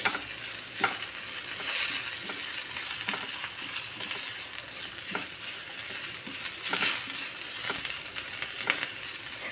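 Grated coconut and onion sauté in a pan for fish podimas, a steady close sizzle with scattered scraping stir strokes and light clinks, no voices.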